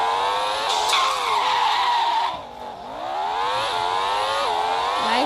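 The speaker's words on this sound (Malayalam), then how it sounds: "ഇന്നത്തെ ലക്ഷ്യം പഗാനി എങ്ങനെ ഇടിച്ച് പോയിക്കാം." A Pagani supercar in a driving video game skids, with a loud continuous tyre squeal over a droning engine that dips briefly and then surges again, close and steady throughout.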